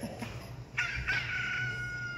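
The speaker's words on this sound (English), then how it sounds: "Rooster!" A rooster crows once in a long, strained cock-a-doodle-doo, nearby and clear over a low background hum.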